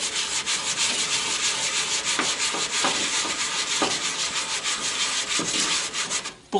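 Hand sanding along a wooden edge to round it over, a steady rasping rub with rhythmic strokes, close and continuous, ending with a brief knock.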